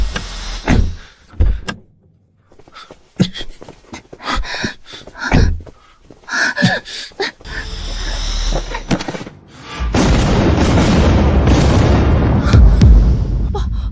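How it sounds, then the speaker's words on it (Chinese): A car bomb goes off in a drama scene after a tampered car is started, a loud sustained broadband roar and rumble taking over the second half, preceded by brief thuds and voices. "爆炸了！"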